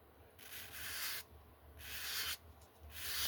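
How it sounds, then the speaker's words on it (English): A car hood is hand sanded with 400-grit sandpaper in long, even strokes, each a loud, close rasping swish separated by short pauses, with no talking. "I'll take this hood real fast and kind of show you how easy it will sand."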